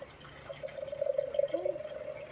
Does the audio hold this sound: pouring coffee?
yes